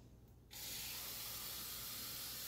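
Water poured into a cooking pot while making chicken-eggplant parda plov, a steady loud rushing hiss that starts suddenly after a quiet half second and continues unbroken to the end, with no talking.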